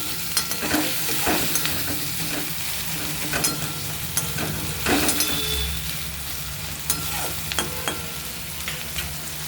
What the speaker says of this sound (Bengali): এইবার আমি পেঁয়াজগুলো দিয়ে দেবো, কুচনো পেঁয়াজ। খুব সুন্দর লাল করে ভাজতে হবে।